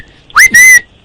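A short, loud two-note whistle, a quick rising chirp followed by a slightly longer steady tone, sharp and close against near silence.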